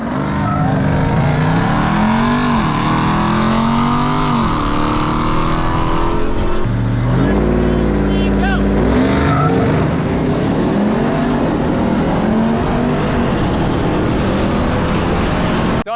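A 2023 Ford Raptor R and a Ram TRX pickup truck drag racing, loud engines roaring and rising through the gears, one pitch dropping at a shift, a continuous powerful drone that stays close.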